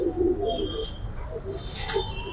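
Pigeons cooing in a loft, soft low coos repeating through the short stretch against a quiet background, with a faint brighter chirp near the end.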